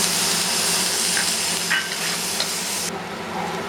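Curry leaves sizzle as they fry in a pan for an Indo-Burmese mutton uppu curry, giving a dense, continuous crackling hiss with a few faint stirring scrapes, close and steady throughout.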